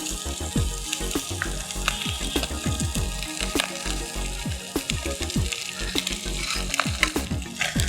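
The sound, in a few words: stirring rice frying in oil in a pan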